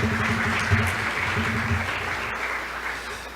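Audience applause at a constitutional law congress, a steady wash of clapping from a seated crowd with a low voice murmuring underneath early on, fading slightly as it continues.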